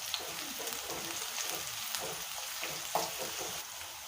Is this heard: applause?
no